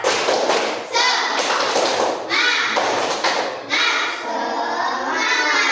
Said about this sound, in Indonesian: Sebelum kita mulai, kita tepuk semangat.